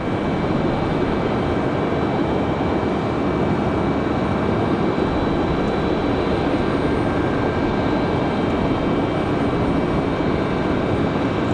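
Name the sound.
American 3033 jet taking off, runway 23 right, Raleigh Durham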